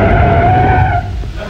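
A car braking hard and skidding, a loud tyre screech with a steady squealing tone that fades out after about a second.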